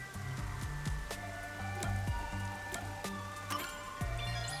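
Rain falling in the detective video game Master Detective Archives: Raincode, a steady wash of rainfall with scattered drip-like taps over a layered musical background, no talking.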